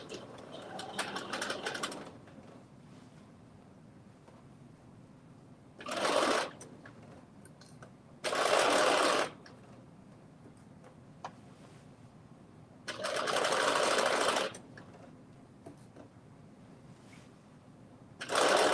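A sewing machine runs straight stitches along a dress sleeve seam in several short bursts, each lasting one to two seconds, separated by quiet pauses.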